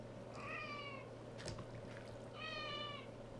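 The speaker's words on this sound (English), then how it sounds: "my cat was trying to tell me how hungry he was" A hungry male cat meows twice close to the microphone, with a drawn-out call near the start and another near the end and a brief clatter between them, all over a steady low hum.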